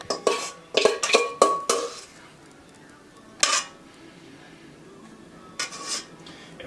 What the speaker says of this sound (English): So just going to scrape it out of the bowl.